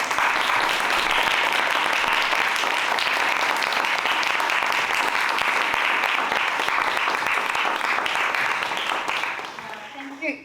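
Long, dense round of audience applause after a museum conference talk in Paris, loud and steady for about nine seconds before tapering off, with a voice beginning to speak at the end.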